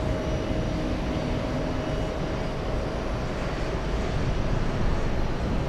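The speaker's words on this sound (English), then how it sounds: "Delta 47 flying in from Amsterdam" A Delta Airbus A330-300 arriving from Amsterdam at JFK airport produces a continuous, loud, even jet roar with a faint steady whine, heard from a distance with no talking.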